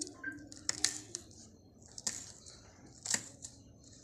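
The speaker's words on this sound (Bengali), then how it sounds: "এবার আমি লঙ্কাগুলো কুচিয়ে নেব ছোটো ছোটো করে" Green chillies being finely chopped with a knife on a board, a few faint, sharp taps scattered irregularly in a quiet kitchen.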